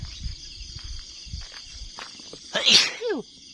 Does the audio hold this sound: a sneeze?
yes